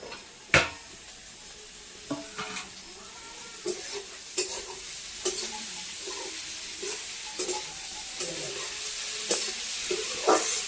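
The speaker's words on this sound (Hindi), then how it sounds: "देखिए दोस्तों अच्छा से प्याज लाल हो गया है। चलिए मशरूम को डाल देते हैं।" Mushrooms going into browned onions in a pan over a village cooking fire, a steady sizzle broken by sharp spatula clanks and scrapes at irregular intervals, close by, no talking.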